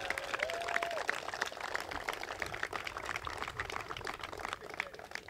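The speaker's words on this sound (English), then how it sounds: "Let's give them a round of applause." A crowd at a Kansas City press conference applauds the East High School Bears, a faint, thin patter of clapping held steady under a murmur of room noise.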